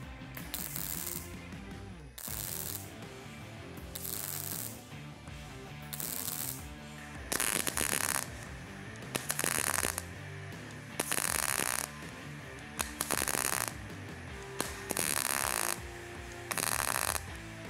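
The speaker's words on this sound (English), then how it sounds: "we can start on the left and work our way across, stacking little tacks across the surface" A Rockwood MIG 160 welder laying a row of tack welds on metal: about nine short bursts of crackling, buzzing arc, each around a second long, separated by brief pauses of quiet hum, close and loud.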